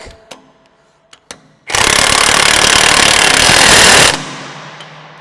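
Bolts go back into a JBS Wide Body beater, tightened with a socket wrench or powered driver. After a few sharp metallic clicks comes a loud, harsh, continuous rattling burst of roughly two and a half seconds that cuts off abruptly.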